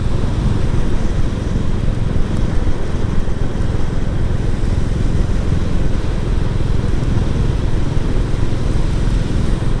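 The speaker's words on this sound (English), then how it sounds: "hear that blub blub blub blub blub blub blub on the engine" A Royal Enfield Classic 350 motorcycle engine rumbles continuously and loudly up close, a deep throbbing burble with steady wind and road noise.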